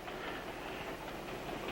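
A train running on rails gives a faint, steady rumble with a soft continuous rattle, unbroken throughout and with no voices over it.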